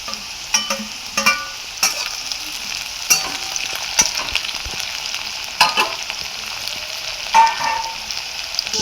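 Potatoes frying with chopped green chillies in a pan for vegetarian ghugni, a steady close sizzle broken by repeated sharp scrapes and clanks of a stirring spoon at irregular intervals.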